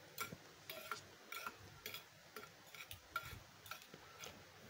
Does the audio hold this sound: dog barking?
no